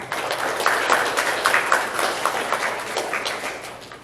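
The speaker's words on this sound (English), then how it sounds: "Will you please give them a round of applause?" An audience applauds inducted members at a Worcester FCCLA induction ceremony, a steady, dense wash of many hands clapping that holds for several seconds at moderate loudness, with no voices over it.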